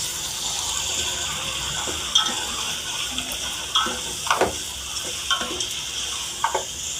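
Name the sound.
sautéing onion, tomato, ginger-garlic paste, mint, coriander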